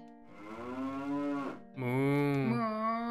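A cow moos in the video game Zelda: Ocarina of Time, two long, loud, tonal moos back to back, the second starting right after a short dip, with no talk over them.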